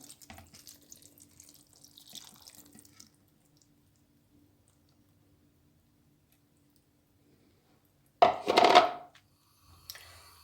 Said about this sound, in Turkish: Şöyle salçalı suyumuzu da gezdire gezdire döküyorum.